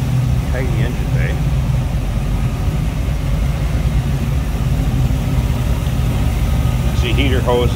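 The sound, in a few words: 1934 Ford Model 40 engine idling smoothly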